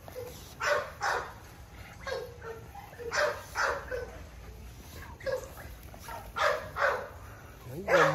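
Merle American Bully puppies let out short, high yips and whimpery barks in repeated bursts, close by and fairly soft, scattered evenly over a faint outdoor hum.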